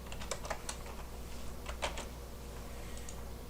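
Code being typed on a computer keyboard, a quick run of light key clicks in irregular bursts over a steady low room hum.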